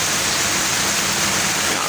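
A heavy downpour roars steadily as a thick, even wash of noise, loud and near, with no voices.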